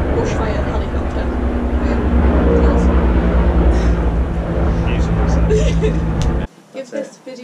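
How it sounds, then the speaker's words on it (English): A bushfire helicopter drones overhead in a sustained, loud, steady engine hum with a low tonal rotor note, cutting off abruptly near the end and leaving quieter background. "That's a bushfire helicopter."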